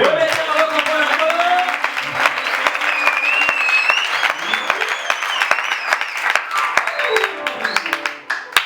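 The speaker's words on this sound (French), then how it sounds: "Acclamez pour le Seigneur." A church congregation applauds and cheers in praise, sustained clapping that fills the room with voices shouting and calling over it throughout.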